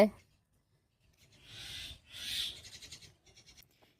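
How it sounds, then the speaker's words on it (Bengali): A goat tied up in a village courtyard, kept for Qurbani, gives two fairly close bleats in a row, followed by a few softer stuttering sounds against a quiet background. "এটা কোরবানির জন্য কেনা ছাগল, উঠানে বেঁধে রাখা হয়েছে"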